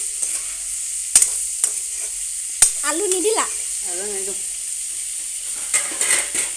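Vegetables sizzle in a pan over a constant hiss, with sharp clinks of a utensil stirring and a brief voice speaking midway.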